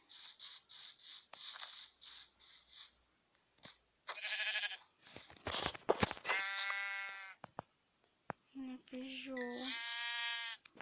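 Several sheep bleat in Minecraft in short, wavering cries, some near and loud, interspersed with scratchy clicks and rustling movements.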